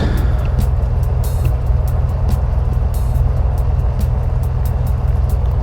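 A Bonanza light aircraft taxis on the ground, its engine a loud, close, steady drone throughout, with faint regular clicking ticks riding on top and no talking.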